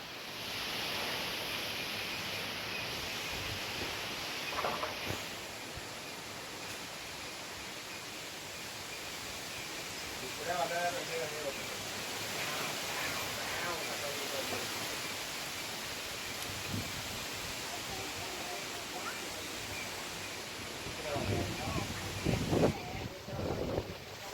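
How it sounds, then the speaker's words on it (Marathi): Strong wind roars steadily through a huge, centuries-old mango tree during a heavy rainstorm, a broad continuous rush with occasional louder gusts and rustling bursts near the end. "अजस्त्र मोठं शेकडो वर्षांपूर्वीचं असावं हे आंब्याचं झाड. वाऱ्याने गदा गदा गदा हलतंय."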